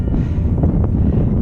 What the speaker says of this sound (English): windy bit on this headland really